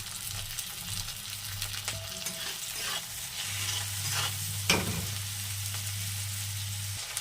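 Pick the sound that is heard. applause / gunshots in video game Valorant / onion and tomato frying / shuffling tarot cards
onion and tomato frying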